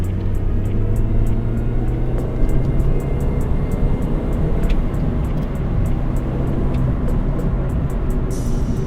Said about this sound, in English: there's something about the whine of this supercharger